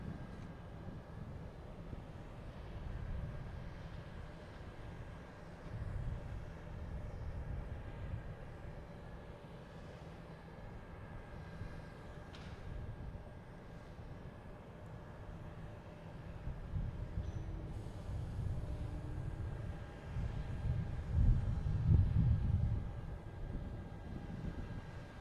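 A jet airplane departing Boston Logan Airport gives a low, distant rumble that stays faint, then swells toward the end as it climbs away, with no voices.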